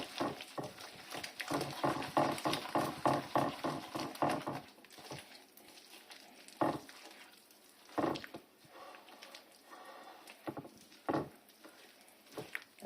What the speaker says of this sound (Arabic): كنبقى كندخل في البيض مزيان